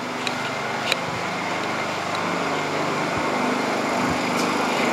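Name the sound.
Honda 2000 watt inverter generator running, throttled down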